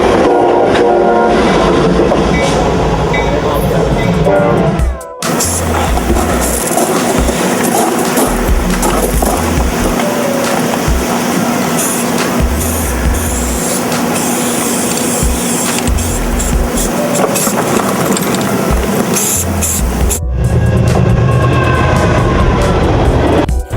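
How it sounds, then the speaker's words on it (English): A freight train rolls past at close range on a Seattle rail line, loud continuous rumble and clickety-clack of wagons with screeching metal, broken by brief gaps between cars. "This train can move at any second."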